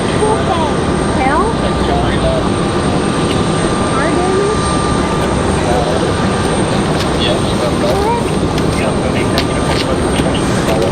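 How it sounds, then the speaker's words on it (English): Endeavor Air CRJ regional jet of Delta Connection arriving from JFK at Raleigh-Durham, a loud continuous jet whine and roar with a high steady tone, heard alongside wind and faint background chatter. "Next arrival is going to be another CRJ from JFK."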